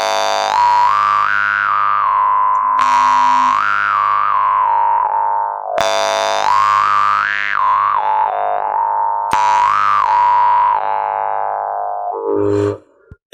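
Bass jaw harp (vargan) by Tarabukin, plucked a handful of times with each twang ringing on in long sustain while the pitch of its overtones is shaped into a wavering melody. Loud and close, ending with a quick rattle.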